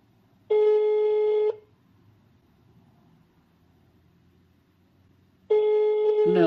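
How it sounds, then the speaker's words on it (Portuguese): An XPE 1013 door intercom sounds a telephone-style ring, two loud steady electronic ring bursts about a second long separated by several seconds of quiet room hum, the second cut off at the end. "Está chamando como se fosse um telefone."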